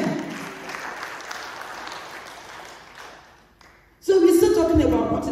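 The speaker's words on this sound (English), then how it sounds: "Give the Lord a clap." Clapping rises from a congregation at a church service, a broad, fading wash of hands that tapers into near quiet before a voice and louder room sound cut in abruptly near the end.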